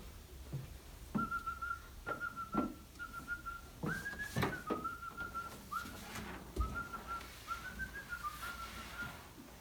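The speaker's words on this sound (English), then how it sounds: "I whistled the intro to Doctor Who" A person whistles the Doctor Who intro, clear sustained notes with pauses between phrases, close and alone in a quiet room.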